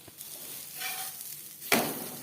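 An egg paratha sizzles softly as it fries in a pan, with a brief louder burst of hiss and scraping near the end.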